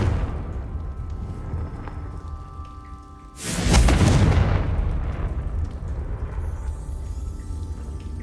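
A Confringo fire spell blast in Hogwarts Legacy: a sudden loud, crackling explosion bursts out after a low ambient rumble, then decays into a lingering roaring rumble.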